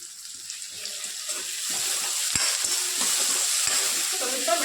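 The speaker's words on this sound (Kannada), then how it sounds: "ಉಳ್ಳಾಗಡ್ಡಿ ಮತ್ತು ಸ್ವಲ್ಪ ಉಪ್ಪು ಹಾಕಿಬಿಟ್ಟು ಚಲೋತ್ನಾಗ ಉಳ್ಳಾಗಡ್ಡಿ ಹುರ್ಕೋಬೇಕ್ರಿ" Chopped onions with a pinch of salt fry in a pan, a steady close sizzle that grows slightly louder, with occasional scrapes and knocks as they are stirred.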